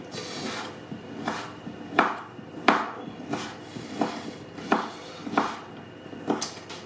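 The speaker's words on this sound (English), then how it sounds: "So I am slicing it quite thinly" Knife thinly slicing chorizo sausage on a board, a steady series of about a dozen crisp cuts with soft knocks, close and alone.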